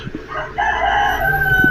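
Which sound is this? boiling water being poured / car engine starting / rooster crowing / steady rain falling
rooster crowing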